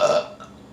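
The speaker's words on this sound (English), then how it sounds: "I feel like I got a burp." A single loud, drawn-out burp from someone eating a Carl's Jr fast-food meal, close to the mic, rasping at first and then tailing off.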